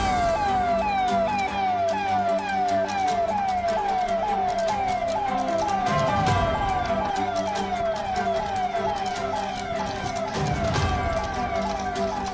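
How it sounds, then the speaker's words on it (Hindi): A police vehicle drives through a city in Bihar with its siren wailing in steady repeating sweeps, loud and continuous throughout, with traffic rumble underneath. "सायरन बजाते हुए गाड़ी से चल रहे थे पुलिस अधिकारी।"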